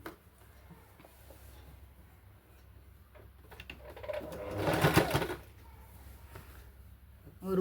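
A sewing machine stitches the elastic waist of a chudithar pant: quiet handling and faint ticks, then a short burst of fast whirring stitches that rises and fades.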